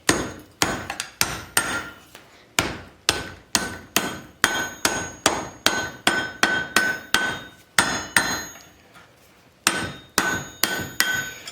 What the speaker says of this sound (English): on top of the anvil, I'll forge this smaller all the way out to the end